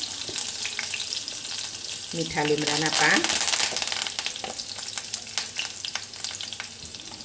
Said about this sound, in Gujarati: તેલ ગરમ થઈ ગયું છે તો થોડું જીરું અને થોડી રાઈ લઈ લઈશું।